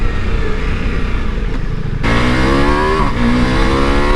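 A Ducati Multistrada V4 motorcycle engine roars steadily while the bike is ridden fast, and its pitch climbs through rising revs after a gear change partway through.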